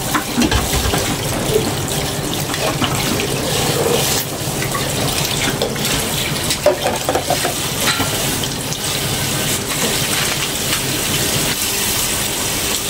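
Pisang tanduk bananas are stirred into simmering coconut milk for pengat, a steady bubbling, sloshing wash of sound with soft scraping stirs throughout and no talking.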